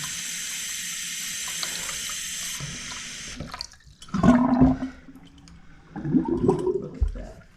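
Plumber's toilet flushing after being unclogged, water rushing down fast with two loud surges and gurgling swirl, preceded by a steady hiss of running water, close and without speech.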